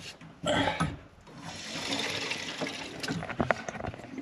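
Water is turned back on into a domestic central heating system after a 2-port valve is replaced, a rushing flow through the pipes that starts with a burst and then settles into a continuous hiss and gurgle, fairly quiet.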